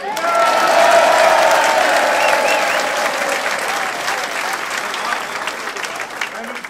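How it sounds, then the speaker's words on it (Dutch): A festival crowd at a concert in Doornenburg bursts into loud applause that peaks early and gradually thins, with a voice over the opening and clapping continuing to the end. "En om even klappen dan."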